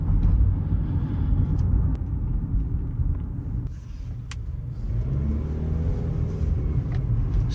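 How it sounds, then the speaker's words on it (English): A 2024 Mazda CX-50 SUV engine drones and rumbles steadily while driving, heard from inside the cabin, with a brief rise in pitch as it accelerates; no talking. "Sounds a lot like a Mazda."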